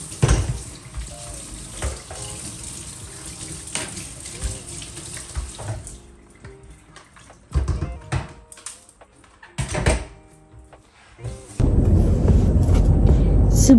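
A dish rack is washed under a running tap in a kitchen sink, with water splashing and clattering in bursts and pauses, then the tap runs full and steady at the end.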